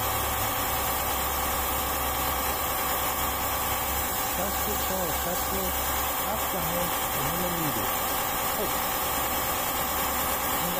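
A homemade steam turbine drives a small generator with a steady, loud, continuous whirring hum and a low rumble throughout, while a voice talks faintly underneath.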